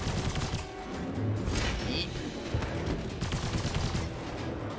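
Rapid video game gunfire in Immortal Unchained, dense bursts of shots rattling almost continuously at close range, with heavy low-end impacts throughout.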